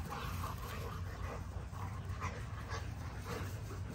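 A pack of dogs scuffles, with muffled barks, yips and snarls rising now and then out of a steady wash of background noise, all faint and somewhat distant, with no voices.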